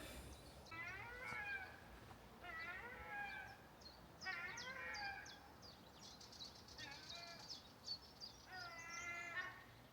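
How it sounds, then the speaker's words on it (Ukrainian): Harsh, repeated gull squawks come in five bursts over steady background noise, moderately close, in a canyon leading to the sea. "чайки кричать, щоб я туди не йшов"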